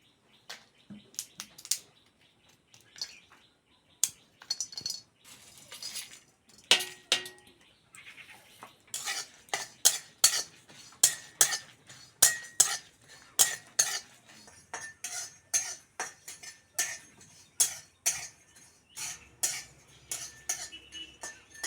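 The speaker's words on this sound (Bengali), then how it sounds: "এইবার যে কোটা মশলাগুলো নিয়েছি সেইগুলো ভেজে নেব" Whole spices dry-roasting in a pan for amla pickle, stirred with a utensil: a sparse then quickening run of sharp metallic scrapes and clinks against the pan, close and fairly quiet, with no talking.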